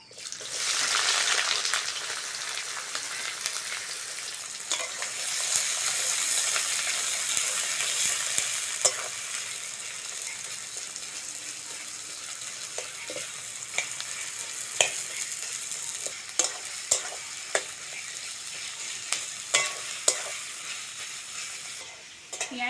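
Chopped onions frying in oil in a wok for chicken curry: a loud, dense hiss at first that settles into a steady sizzle, punctuated by sharp scraping and clacking stirring strokes, close up with no talking.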